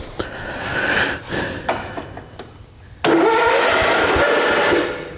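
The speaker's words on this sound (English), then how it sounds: "that thing cranks like a beast now" Engine of a 1970s Cub Cadet tractor with new starter and ground cables cranking, a loud close whirring grind with a brief dip before a stronger, steady cranking run.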